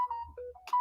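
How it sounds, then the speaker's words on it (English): A mobile phone rings with a bright electronic melody of sustained tones and short warbling notes, clear and close in a quiet room, with no talking over it. "Oh, that's my phone going."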